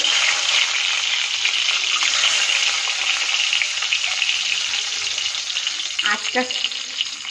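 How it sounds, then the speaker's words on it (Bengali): Eggs slid one at a time into hot oil, a steady loud sizzle throughout with a few brief crackling spatters near the end, no voice over it. "তেলটা গরম হয়ে গেছে। এই অবস্থায় আমি এক এক করে ডিম এর মধ্যে দিয়ে দেবো।"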